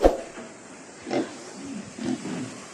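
Pigs on a small farm grunting and oinking in a few short separate bursts, fairly close, with quiet pauses between the calls.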